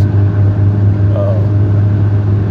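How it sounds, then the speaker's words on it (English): Inside a moving car, a steady low engine and road hum drones continuously, loud and even throughout, with faint cabin noise above it. "I'm driving right now too."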